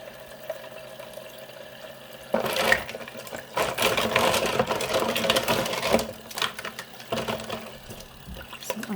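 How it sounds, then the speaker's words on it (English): Lukewarm water runs and splashes over metal nail tools to rinse dust off them, a steady hissing flow that starts a couple of seconds in, with uneven surges. "I use lukewarm water to rinse all the dust out on my"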